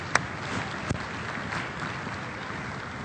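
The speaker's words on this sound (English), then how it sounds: "Little round of applause for the team." A modest round of applause for a team, a crowd clapping steadily at moderate loudness with a couple of sharper, closer claps near the start.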